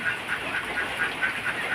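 Ducks shut in a pen during rain quack repeatedly in a quick, regular run of nasal calls, moderately close and fairly loud over a soft background hiss.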